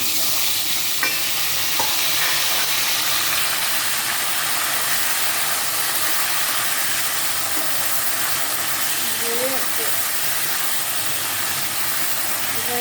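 Taro pieces sizzle steadily in hot oil with whole cumin seeds and bay leaf, a loud, continuous close frying hiss with faint stirring scrapes.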